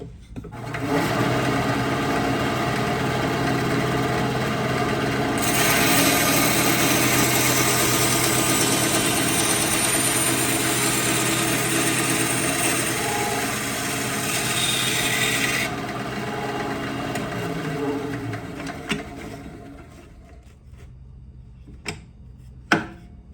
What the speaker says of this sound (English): And I like this little Win bandsaw.